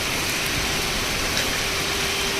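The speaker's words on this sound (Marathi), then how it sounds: "हे बघा इथे पाऊस वाढला बघा. गाडीवर पडताना दिसत असेल तुम्हाला." Steady rain drums on a vehicle during a windy storm, a dense, continuous hiss with a faint tonal hum underneath, close and uniform throughout.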